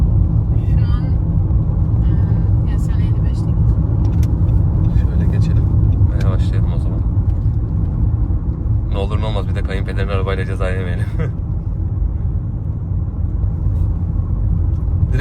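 A 2020 Nissan Qashqai 1.5 diesel automatic is driven at moderate speed, with a steady low engine and road rumble filling the cabin from start to finish while people talk over it.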